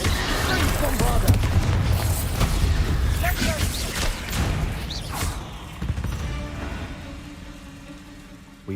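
Bombarda blasting spell explosions in Hogwarts Legacy erupt as loud booming thuds amid dense rumbling combat noise, mixed with voices shouting, then fading toward a quieter tail.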